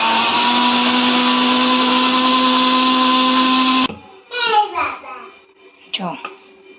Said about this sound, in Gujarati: આપણે મિક્સર જારમાં નાખી દીધું છે ને હવે આપણે એને ક્રશ કરી લઈએ